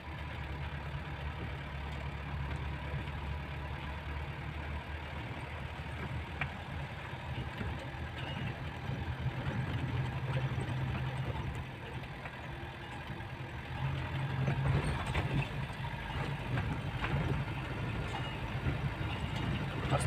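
Car engine running steadily as a new driver steers it slowly, a low, even hum throughout with slight swells in revving and some road rumble, no voices.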